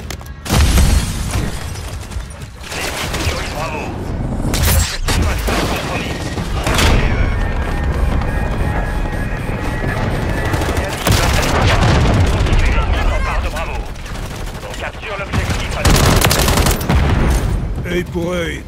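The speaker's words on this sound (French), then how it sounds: "Grenade lancée." A thrown grenade blasts amid heavy gunfire in a Call of Duty match, with loud repeated booms and rapid bursts of shots over a dense, continuous barrage, and a voice speaking over the combat.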